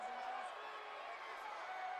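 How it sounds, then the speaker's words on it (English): Crowd at a Front Street Fights MMA event roaring and whooping in a continuous wash of noise, with talk heard over it. "As you can hear the crowd get loud as they see that impressive reach of Almir Talic"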